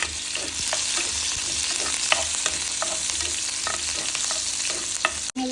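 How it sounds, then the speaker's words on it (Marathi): Finely chopped green chillies sizzle steadily in hot oil for a masala vegetable Maggi, with a spoon scraping and clicking against the pan at irregular intervals, close and continuous, no voices. "बारीक चिरलेली हिरवी मिरची घालू थोडीशी आपण ते हलवून घेऊ"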